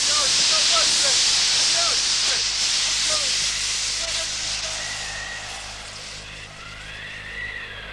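Steam hissing out to de-ice the icy flight deck of a ship in Antarctica, a loud continuous broadband rush that slowly eases, with faint chirps early on and a soft whistle-like tone later.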